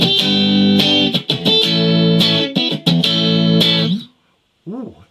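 A homemade Telecaster-style electric guitar on both pickups plays bright sustained chords with several sharp stops and restarts, ringing out and then fading, followed by a brief bending note.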